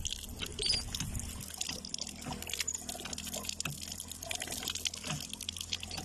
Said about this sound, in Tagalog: Napakalakas po ng buga niya kahit na hindi po ganun ka-effort po pagpapump niya.